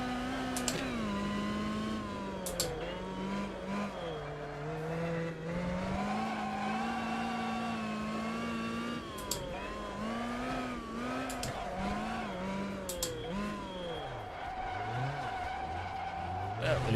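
Video game car sliding on the handbrake: a continuous engine drone with long, wavering tire-skid squeals bending up and down, steady and loud throughout, no talk over it.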